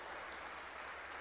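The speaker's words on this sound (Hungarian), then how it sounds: "nagy tapsot kap Szigi Kajzár" Sustained, dense applause from the crowd at a women's basketball game against Miskolc, steady and loud throughout with no pauses.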